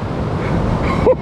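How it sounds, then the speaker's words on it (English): Large waves surging and breaking on a cold Scottish sea beach, a steady broad wash of surf with wind noise, ending in a brief louder burst close to the microphone. "Honestly, the waves are massive."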